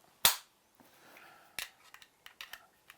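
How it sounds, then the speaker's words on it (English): A German 9mm Luger pistol gives a sharp, loud metallic snap as its toggle link is pulled back, followed by a softer slide and several small clicks and rattles of the action close by. "It has a toggle link. You pull back."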